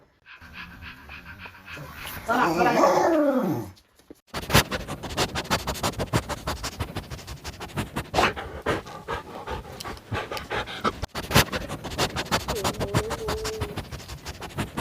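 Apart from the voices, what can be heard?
dog panting, whimpering and growling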